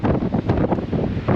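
Hurricane-force wind, around 80 mph, buffets a GoPro Hero 10 microphone with loud, continuous rumbling gusts that surge and ease in a steady roar.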